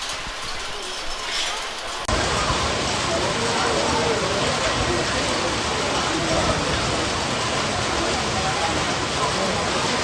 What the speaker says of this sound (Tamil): பயங்கரமான மழை.